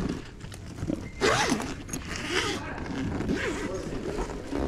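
A zipper is pulled open in a couple of rasping strokes, close and fairly loud, amid rustling and handling noise.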